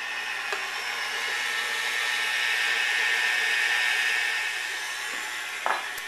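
A hand mixer whirs steadily as it creams unsalted butter with powdered sugar, a continuous motor drone with no talk and one small clatter near the end.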